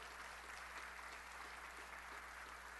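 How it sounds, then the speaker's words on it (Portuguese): Audience applause at a solemn session marking a Baptist convention's centenary, steady clapping heard faintly and at a distance over a constant low hum. "peço mais uma vez uma salva de palmas ao centenário"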